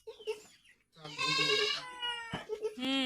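A goat lets out loud, wavering bleats nearby, with clucking chickens and a short voice in between.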